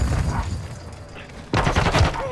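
Gunfire in Call of Duty MW2, close shots that rumble low, then a denser, sharper burst of rapid fire arriving about halfway through the short stretch.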